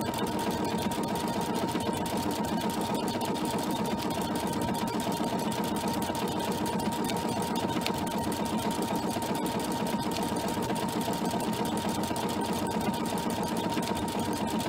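A sewing machine runs steadily for the whole stretch while stitching tote bag fabric, a close, even, rapid mechanical whir with no pauses.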